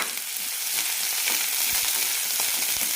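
Sliced onions sauté in hot coconut oil in a pan with mustard seeds and curry leaves, giving a steady close sizzle with small stirring scrapes and no talk.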